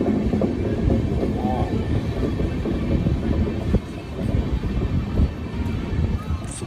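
The Telangana Express runs past Necklace Road station in Hyderabad, a steady rumbling clatter of rail cars heard from on board, with wind buffeting the microphone.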